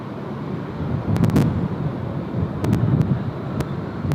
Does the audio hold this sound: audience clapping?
no